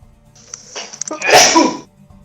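A single loud, close sneeze with a short sharp intake before it, bursting into a noisy blast that fades quickly; no talking.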